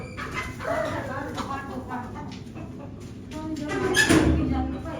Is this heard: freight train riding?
no